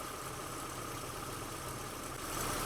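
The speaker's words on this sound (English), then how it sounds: "here the engine kind of idles up a little bit, and then it lags down" A Nissan car engine idles, its revs rising slightly and then sagging back down, a steady, fairly quiet mechanical hum heard up close with no talking.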